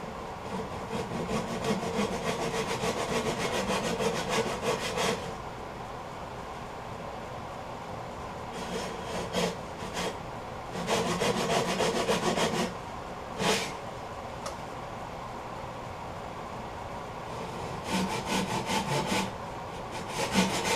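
Wood turning on a short lathe as a long tool handle spins, its far end supported by a drill in a jam chuck: rough, rasping bursts of tool-on-wood scraping come and go in stretches over a steady background, with pauses between cuts.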